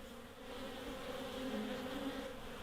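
Bees hum steadily inside a beehive built in an old fridge, a dense close drone holding throughout with no voices.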